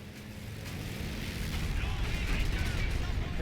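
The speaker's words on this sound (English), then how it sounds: "Bombing run." A Company of Heroes bombing run makes a dense, continuous rumble of heavy blasts and crackling detonations that builds slightly over a few seconds.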